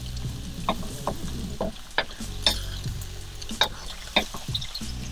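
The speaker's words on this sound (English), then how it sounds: "We're going to scramble our egg up separate." Egg scrambles in a hot pan for shrimp fried rice, a steady close sizzle broken by repeated scraping and tapping stirs of a utensil.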